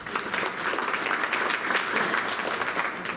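Sustained audience applause fills a room at an awards luncheon, dense and steady throughout without a break, with no voices standing out.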